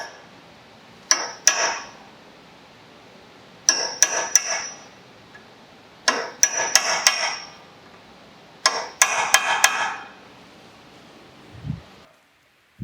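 Hammer strikes bend over the lip of a castle nut on a 2018 Honda Civic Si CV axle in a garage, arriving in four bursts of several sharp metallic taps each, separated by short pauses.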